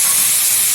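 Cashew and fennel paste hits hot oil with a loud, steady sizzling hiss that fills the whole brief moment.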